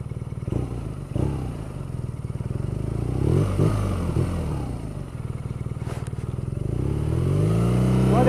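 A 2014 BMW R nineT boxer twin with shaft drive hums along at a steady, close drone, dips briefly, then revs up with rising pitch toward the end.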